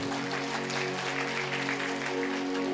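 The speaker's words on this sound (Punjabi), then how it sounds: "ਤਾਲੀ ਮਾਰੀਏ ਜ਼ੋਰ ਦੀ।" A congregation at a sermon claps loudly in a continuous, even roar of hands, with a steady musical tone running underneath.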